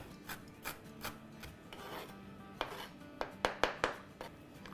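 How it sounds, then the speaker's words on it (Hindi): Fresh dill is chopped with a knife, starting with soft irregular strokes and ending in a quick run of sharper, close chops. "तो इसको हम चॉप कर लेते हैं"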